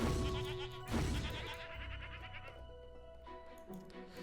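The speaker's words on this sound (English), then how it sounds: "We'll have to murder some more goats before I can find that one out." Goats bleat repeatedly in the Hero's Song PC video game, wavering cries rising loud at the start and again near one second, then fading into softer game ambience with a few fainter bleats later on.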